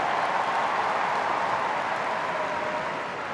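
A stadium crowd at a women's league football match between Chelsea and Tottenham applauds steadily as the captain is substituted off, a broad, distant wash of clapping that holds evenly and tapers slightly at the end.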